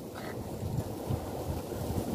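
Wind and approaching heavy rain sweep over open rice fields in a continuous loud, rushing roar with gusty surges and no break.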